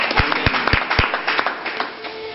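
Church congregation applauding during a sermon, a few sharp, distinct claps at the start giving way to softer, scattered clapping that fades out.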